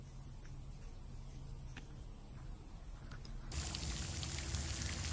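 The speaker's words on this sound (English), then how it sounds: "I turned the water nozzle on to aerate it and agitate it and try to get things worked in" Water from a hose nozzle pours into a backyard pond treated for algae, a faint steady trickling and splashing that turns louder and brighter partway through as the flow increases.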